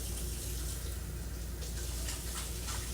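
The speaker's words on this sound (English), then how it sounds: "Let me wash my hands." A kitchen tap runs in a steady, full rush of water as hands are washed underneath it during meal prep, with no talking.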